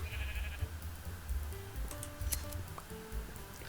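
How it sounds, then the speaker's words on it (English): A sheep bleats in a Minecraft-style blocky video game, faint against soft background game sounds and ticks, with no one speaking over it. "There's a sheep. I should probably get that."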